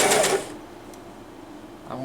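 A sewing machine runs briefly while stitching the lining edges of a handmade purse, a short burst of rapid mechanical whirring that stops abruptly, followed by quiet room tone.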